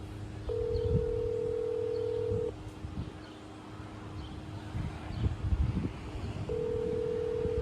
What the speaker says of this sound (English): I don't think he's going to pick up the phone.